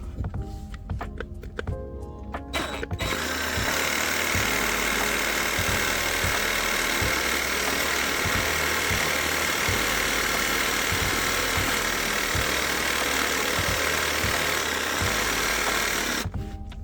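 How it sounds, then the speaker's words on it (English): A jigsaw trims a wedged piece during a DIY house renovation, running loud and close for about twelve seconds of steady buzzing with a faint rhythmic chatter, after brief clatter at the start and before a sudden stop. "just use my jigsaw to do that."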